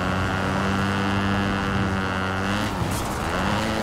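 A steady, droning motorcycle engine hum in the video game Fortnite holds at an even level throughout, with a brief shift in pitch near the end and no talking.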